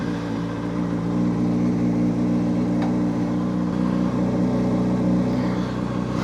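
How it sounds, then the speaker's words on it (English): Honda CBR600rr motorcycle engine heard while riding, a steady, loud mid-pitched drone with road and wind noise, holding an even pace with a slight rise in revs near the end. "Let's take a ride on a Honda CBR600rr."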